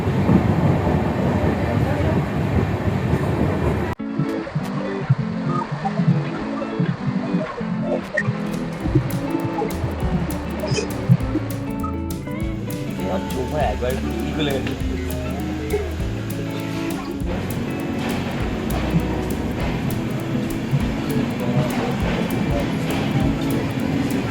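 The Mumbai Mail train rumbles and clanks along between Durgapur and Asansol, with shifting mechanical tones, rattles and a steady roar, and occasional voices faintly in the background.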